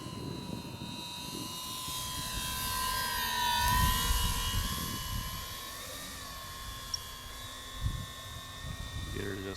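Avios Twin Otter twin-engine RC STOL plane with 1600mm wingspan, its steady droning motor whine holding overhead through the clip with slight pitch shifts as it hangs into the wind, wind buffeting the microphone low down.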